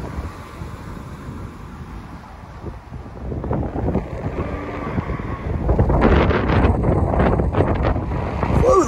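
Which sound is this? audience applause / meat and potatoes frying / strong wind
strong wind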